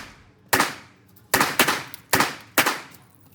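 A pistol loaded with a Shield Arms Z8 magazine fires five sharp, loud shots at an uneven pace, with some fired in quick pairs, each shot decaying quickly, and no talking between them.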